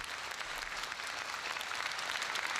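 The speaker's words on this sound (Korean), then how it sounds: "그 벅찬 사랑에 뜨거운 박수로 화답했다" A crowd at a church gathering during a visit to Pyongyang gives a warm round of applause, a dense continuous clapping heard at moderate distance.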